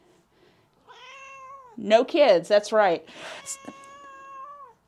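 A shelter cat meows with drawn-out, wavering cries, several calls close up, mixed with people talking nearby.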